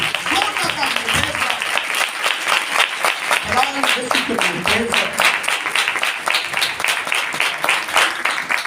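A church congregation at a Sunday meeting applauds loudly to welcome a guest speaker, with dense, sustained clapping throughout and a few voices rising over it.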